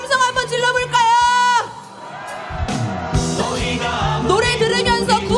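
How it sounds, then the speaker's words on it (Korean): A street protest crowd at a candlelight rally lets out a loud cheer and whoops, with voices rising in a swell that dips and then builds again, close and sustained. "함성 한번 질러볼까요?"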